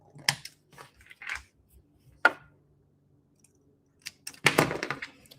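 Scissors snip fabric during sewing, giving a few sharp, sparse clips spread across a quiet room, with a busier burst of cutting near the end.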